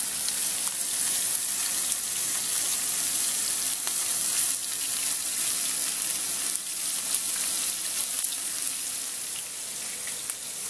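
Khramuli fish fries in plenty of very hot oil, giving a loud, dense, continuous crackling sizzle close up, steady for the whole stretch with no voices.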